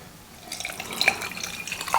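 Hot boiled water is poured into a cup while making a natural coffee drink, a soft liquid trickle with light drips that builds after a quiet start and continues steadily, close and fairly faint.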